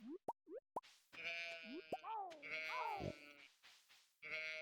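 Sheep in the Stardew Valley farming game give several loud, stylised bleats with wavering pitch, mixed with short plopping and boinging game effects in quick, uneven bursts and no speech.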